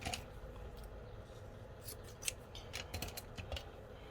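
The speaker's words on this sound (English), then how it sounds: "So I'm going to just trim a piece of this off." Scissors snip through a piece of paper in a papercraft session, a quick run of crisp, close cuts clustered in the second half over a faint room hiss.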